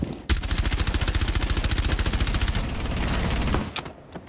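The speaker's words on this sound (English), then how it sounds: "They're shooting in bathtub room." Rapid automatic gunfire from Rainbow Six Siege on the Hereford Base map, a dense steady burst of shots lasting a few seconds, then a rougher sustained crackle and a couple of closing pops.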